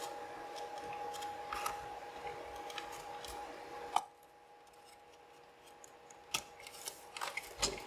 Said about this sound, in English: we have to be extremely patient while working these halves apart to avoid snapping the tabs